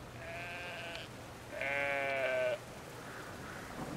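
Sheep in the video game Brothers bleat in two clear, harmonic calls, the first lasting about a second and a longer, louder one following after a short pause, with no talk over them.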